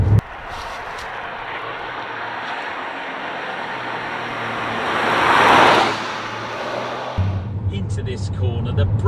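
Toyota GR Yaris driving into a corner, steady road and engine drone inside the cabin that swells into a louder rush before dropping away, with someone talking over it.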